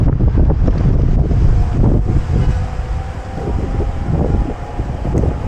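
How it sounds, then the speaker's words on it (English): Strong wind roars and buffets the microphone while riding a carbon fiber road e-bike outdoors, a loud continuous rumble under a storm-threatened sky, with no voices. "Here comes the wind."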